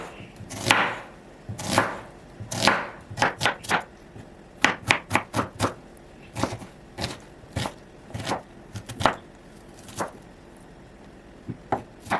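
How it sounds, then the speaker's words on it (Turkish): A knife finely chops onion rapidly on a cutting board in uneven bursts of sharp, close taps, with brief pauses between runs. "Şimdi geçiyorum. Soğanımı da küçük küçük doğramaya."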